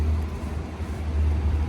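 Buses and other road vehicles drone along a busy road at a crowded outdoor stop, a steady low engine rumble close by with no voices.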